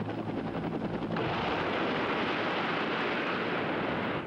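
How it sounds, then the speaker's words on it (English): Military helicopters arrive during a training exercise at Fort Rucker with a loud, continuous rotor roar and rhythmic thumping that swells into a broad rumble, heard alone. "They came in helicopters."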